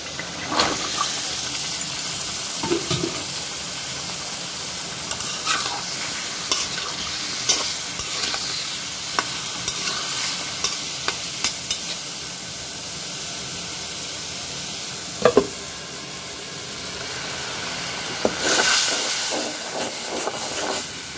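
Fish pieces go into a pan of sizzling spice masala, producing a loud, steady frying hiss with scattered stirring clicks and a sharp clatter partway through, and a surge of sizzle near the end.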